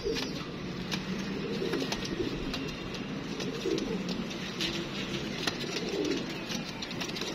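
Pigeons coo steadily in a loft of paired birds being sold off, soft repeated calls layered over a constant noisy background with no talk.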